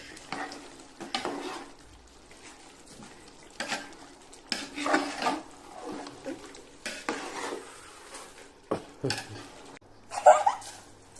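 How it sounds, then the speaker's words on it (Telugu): Chicken biryani stirred in a cooking pot, repeated scraping strokes of a spoon against metal with soft frying sizzle underneath, close and irregular, with occasional clinks. "మళ్ళీ ఒక్కసారి మిక్స్ చేయాలి, బాగా కలుపుకోవాలి."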